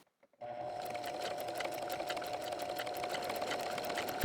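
A sewing machine stitches buttonholes on spring pants, a fast steady mechanical whir with rapid needle ticking that starts abruptly and runs unbroken up close, with no talking.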